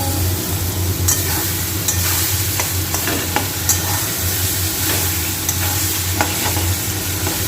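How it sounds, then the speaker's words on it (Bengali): A banana flower mixture with fried onions stir-fried in a pan gives a steady close sizzle, broken by scraping spatula strokes every second or so across the whole clip. "এটাকে অনবরত কষতে হবে যতক্ষণ না এই জলটা, দেখছো বন্ধুরা, এই জলটা যতক্ষণ না চলে যাবে"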